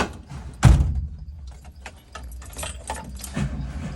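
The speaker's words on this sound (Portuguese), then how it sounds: "Bater essa porta com força, mano." One heavy thud as a house door is shut hard, loud and close, followed by quieter rattles, clicks and shuffling handling noises; no talk.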